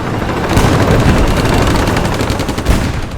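Sustained gunfire in a Pacific tank battle forms a dense, loud barrage of overlapping shots and booms that runs without pause.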